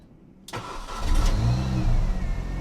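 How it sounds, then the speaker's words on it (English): A Mini R50 engine, just fitted with a new ignition switch, cranks and catches after a brief quiet moment, then settles into a steady, close mid-pitched idle. "just make sure the car starts."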